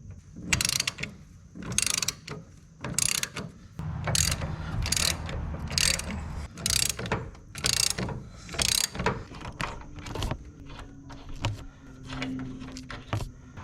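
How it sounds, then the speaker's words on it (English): Ratchet and breaker bar with an 18mm deep socket and extension loosening strut bolts on a Chevy/GMC Tahoe, Suburban or Yukon, heard as a rapid series of loud clicking pawl bursts with short pauses between, close up with no talking. "To loosen these up, I'm going to use an 18mm deep socket with an extension and my breaker bar."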